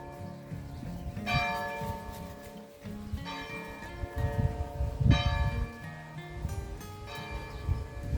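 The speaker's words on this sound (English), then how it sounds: "if you can hear the bells, this is to notify us if there's a funeral, a wedding, and also it tells the time throughout the day" Village church bells ring out in Alcantarilha, Portugal, with four bright, resonant strikes spaced about two seconds apart, each leaving a long ringing decay over a low rumble of outdoor background noise.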